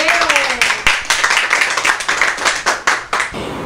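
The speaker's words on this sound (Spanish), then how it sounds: "vamos a darle un aplauso a nuestro tendero" A small group claps for a shopkeeper on an educational television program, with distinct, somewhat uneven handclaps in a quick rhythm that fade out near the end, and a voice is briefly heard at the start.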